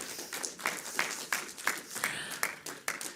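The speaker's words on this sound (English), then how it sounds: "Kannupriya, I hope you heard the applause" Applause from a conference audience at the close of a Scala programming talk, a steady patter of many hands with sharp individual claps standing out, moderately distant and continuous without speech.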